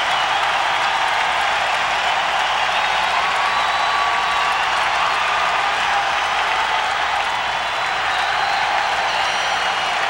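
Arena hockey crowd roaring for the Philadelphia Phantoms' 1998 Calder Cup win, a loud, continuous wash of cheering and clapping that never lets up, with no distinct voices standing out.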